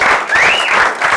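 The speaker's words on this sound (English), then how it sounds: "And give an even bigger clap." A crowd at an evening gathering with Ralph Steadman and Ceri Levy claps loudly and continuously, a thick sustained patter of many hands, with a faint whistle or cheer rising briefly in the middle.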